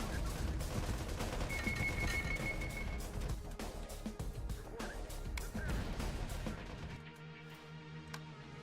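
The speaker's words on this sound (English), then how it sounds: "Artillery." Artillery and heavy gunfire in the Terminator Dark Fate Defiance war game rumble and crack in dense, continuous bursts, loud and close, before cutting to a quieter stretch near the end.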